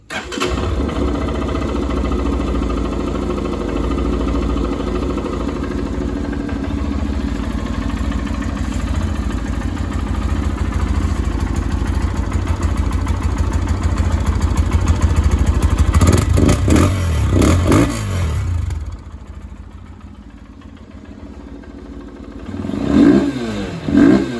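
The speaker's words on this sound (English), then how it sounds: "I'm gonna start it up for you so you can hear it." A 2022 Lifan KPR 200 motorcycle's 200cc engine starts and runs steadily, rising in a few loud revs before cutting off, then a brief final rev.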